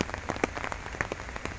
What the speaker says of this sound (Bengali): বৃষ্টি হচ্ছে, প্রচুর বৃষ্টি হচ্ছে।